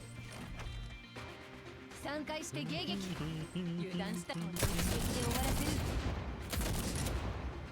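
Heavy KSVK rifle fire in the Girls Frontline game, with rapid overlapping shots forming a loud, dense burst of gunfire that builds and stays intense through the second half, mixed with busy game effects.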